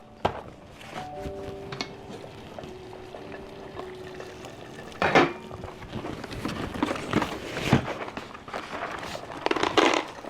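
Water bubbles and splashes in a pot while dry pasta is dropped in, with clattering and scraping sounds close by.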